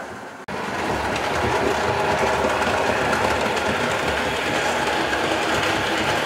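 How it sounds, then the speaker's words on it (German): A Märklin model train locomotive runs on a layout at a model railway exhibition, producing a steady, close mechanical whir and rattling rail clatter that starts abruptly and continues evenly throughout. "Und jetzt kommt auch noch eine Lok."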